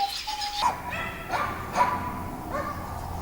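A dog barks and whimpers indoors, several short yips and whines spaced out over a quiet background.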